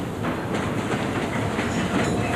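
Coal hopper wagons moving on the Harton electric coal railway make a steady, loud rumble and rattle of rolling stock with faint rhythmic clatter, unbroken throughout and free of voices.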